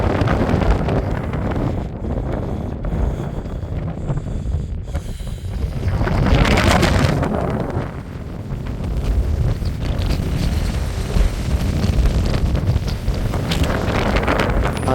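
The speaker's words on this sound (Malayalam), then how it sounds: "വലിയ കാറ്റടിച്ച് എന്തായാലും നമുക്ക് ചെയ്യാണ്ടാവും" Strong mountain wind buffets the microphone during a trek through hill country, a loud, steady roar that keeps rumbling and surges in gusts for the whole stretch, with no voices over it.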